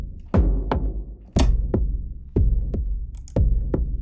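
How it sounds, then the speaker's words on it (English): Synth low drum patch layered with a sine wave, producing deep booming hits in a steady rhythm, roughly two quick thumps per beat and heavier accents about every second, loud and alone with no talk. "this is using the low drum and a sine wave"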